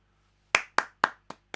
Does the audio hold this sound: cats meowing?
no